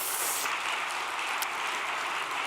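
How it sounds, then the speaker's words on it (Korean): Encouraging applause from a church congregation at a special overnight devotion service, a steady dense wash of clapping that stays loud and even throughout with no talk over it. "격려의 박수 부탁드리겠습니다"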